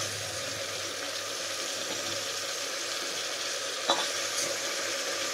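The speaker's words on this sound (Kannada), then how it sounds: "ಟೊಮೆಟೊ ಎಲ್ಲ ಚೆನ್ನಾಗಿ ಸ್ಮ್ಯಾಶ್ ಆಗಿದೆಯಲ್ಲ, ಇವಾಗ ಇದಕ್ಕೆ ಮಶ್ರೂಮ್ ಹಾಕ್ಕೊಳ್ಳೋಣ." Mushrooms sizzle and fry with smashed tomatoes in a pan, a soft steady hiss with faint stirring scrapes and a small clink partway through, quiet and without talk.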